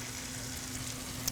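A butter and flour roux cooks in a pan with a steady, quiet sizzle and a soft stirring scrape near the end.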